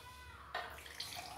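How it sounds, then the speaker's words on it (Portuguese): Water poured out of a pot in a kitchen, a short faint splash starting midway, with a second small burst just after. "Tirar um pouco dessa água aqui."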